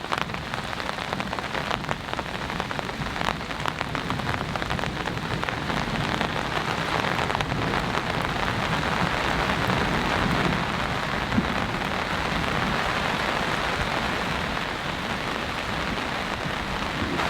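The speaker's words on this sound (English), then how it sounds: "It's really nice being underneath this tarp, just listening to the rain, listening to the thunder." Heavy rain drumming on a camping tarp at an off-grid cabin during a storm, a dense, steady, close patter that lasts throughout, with occasional louder drops and faint thunder in the background.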